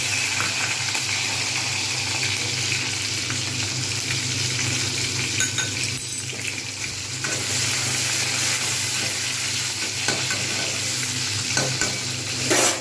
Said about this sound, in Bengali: ভাজা হয়ে গেছে জিরেটা এর মধ্যেই দিয়ে দেবো টমেটো কাঁচা লঙ্কা